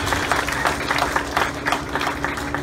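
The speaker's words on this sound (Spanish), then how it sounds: "Ese aplauso fuerte, otro aplauso fuerte que se escuche" Guests at a christening party in Las Vegas clap loudly, a short crowded burst of applause with distinct hand claps, over a low steady hum from music or a sound system.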